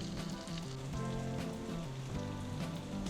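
Boiled potatoes sizzle in a hot kadai with a steady, dense crackle of frying that holds evenly throughout, close and moderately loud, with a faint low hum beneath.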